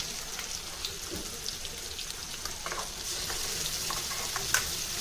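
Ground spice paste sizzles and crackles steadily in hot oil while an Andhra-style cumin kulambu is cooked, with faint stirring scrapes and a continuous frying hiss throughout, no voices.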